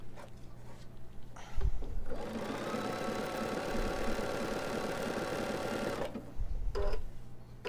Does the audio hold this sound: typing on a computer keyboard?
no